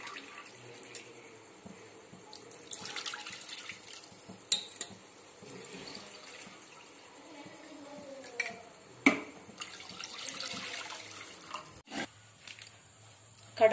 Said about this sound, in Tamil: அடுப்புல கடாயை வச்சுட்டு 2 கப் தண்ணி ஊத்திக்கலாம்.